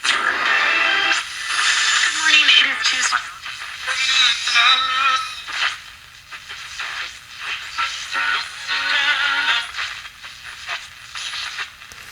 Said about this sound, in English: Lots of stations in there. Thing is receiving very, very well.